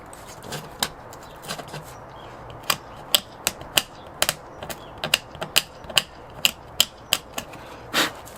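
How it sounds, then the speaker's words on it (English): Wood glue in a seam cracks and snaps as foam is torn out of a building model, giving a string of sharp, irregular clicks and pops that grow denser, close up, with no talking. "That sound, that's the wood glue that's between the seam, or that's in the seam"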